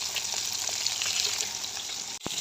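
Koi fish frying in hot oil for a curry, a steady close, loud sizzle throughout with a brief clatter near the end.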